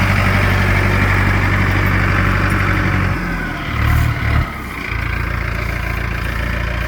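A Mahindra 6025 tractor engine idles steadily at close range with a loud, constant low rumble that dips briefly midway before settling back to its even idle.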